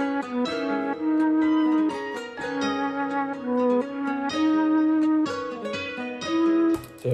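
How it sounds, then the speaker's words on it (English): Flute melody played one octave lower in an FL Studio beat for a bridge, a loud continuous line of short repeated phrases over a dense backing, no talk. "I have the flute, but one octave below,"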